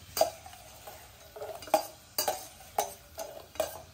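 Curry leaves frying in oil for a tempering give a faint sizzle under a series of sharp, evenly spaced clinks as a spoon strikes the pan about six times.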